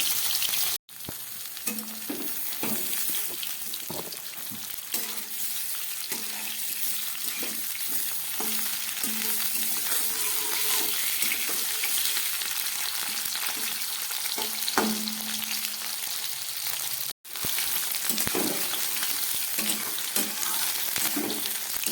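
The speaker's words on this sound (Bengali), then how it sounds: "ফুলকপিটা আগেই নুন আর হলুদ দিয়ে একটু ভাপ দিয়ে নিয়েছি, এখন আর কিছু দেব না, এইভাবেই ভেজে নেব।" Steamed cauliflower, seasoned beforehand with salt and turmeric, fries in hot oil with a steady, close sizzle that runs the whole time, broken by occasional stirring clicks and scrapes, with no talking.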